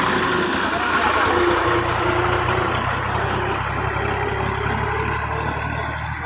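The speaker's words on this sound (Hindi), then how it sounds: "तो ये जी मामू ट्रैक्टर लेके जा रहे हैं देखिए, किसी के हल चलाने के लिए।" A tractor engine rumbles on a farm, heading out to plough, as a steady low drone with a loud wind-buffeted roar over it, likely heard from a moving motorbike, and a voice is faintly mixed in.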